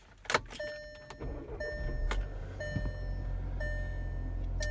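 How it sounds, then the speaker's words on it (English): A Volkswagen starting up inside the cabin, with electronic chimes and beeps, a short crank, then a steady low engine idle settling in, heard close with no voices. "Let's go ahead and get the car started."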